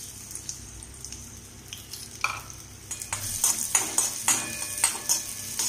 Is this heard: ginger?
yes